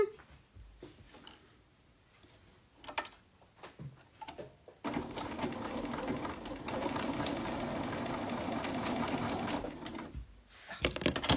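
A sewing machine stitching fabric for a Scottie quilt block, starting after a few quiet seconds and then running in a steady, fairly close whir for several seconds before stopping.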